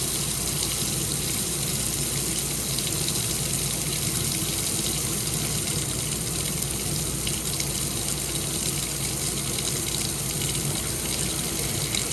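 Water gushes steadily from a faucet in a Shasta Phoenix 334FL RV, a loud continuous hiss and splash that stays even throughout with no talking.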